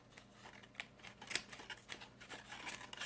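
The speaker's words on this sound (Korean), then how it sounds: "여기 가위로 더 잘라주세요" Scissors snip through paper while a paper robot model is cut out for assembly, giving a run of close, quiet, irregular cutting clicks and rustles with no voices.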